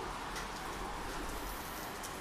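Steady rain falls outside a pigeon loft as a soft, continuous broadband hiss, even and unbroken, heard at a moderate distance with no voices.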